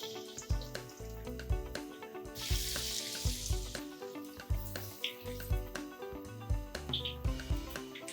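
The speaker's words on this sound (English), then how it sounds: "And we put it into the hot oil." Poha cutlets coated in breadcrumbs drop into hot oil and fry with a soft, steady sizzle, close by and moderately loud, under a busy backdrop of other kitchen tones.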